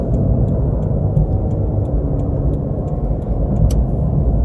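A 2014 Scion tC drives along with a steady, close cabin rumble of engine and road noise, even and continuous throughout.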